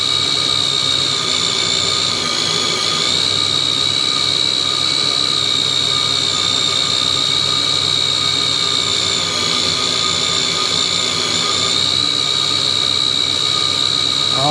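A brushless RC car motor revs steadily on a dyno test bench, a loud continuous high-pitched whine with a strong tonal scream that shifts slightly in pitch for the whole stretch, with no voices.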